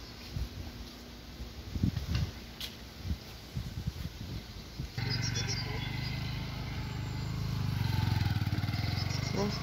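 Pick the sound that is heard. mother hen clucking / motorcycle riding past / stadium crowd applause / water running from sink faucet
motorcycle riding past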